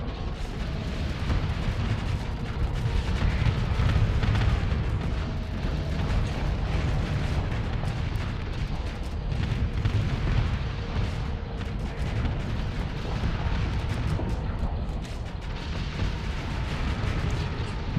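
Missile explosions in the space combat game Starsector, a dense, continuous barrage of booms and rumbling blasts that stays loud throughout, with no voices.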